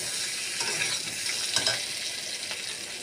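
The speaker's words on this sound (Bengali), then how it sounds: "নুন হলুদ আদা রসুন জিরের গুঁড়ো লঙ্কার গুঁড়ো দিয়ে এটা ভালো করে কষিয়ে নিচ্ছি।" A steady close sizzle of frying spices in a pan, with salt, turmeric, ginger, garlic, cumin powder and chili powder, goes on under a few soft stirring scrapes.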